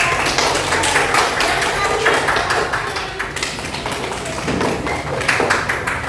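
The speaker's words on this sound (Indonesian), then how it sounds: "beri tepuk tangan untuk" A classroom of students claps together in a steady, dense patter, close and fairly loud throughout with faint voices mixed in.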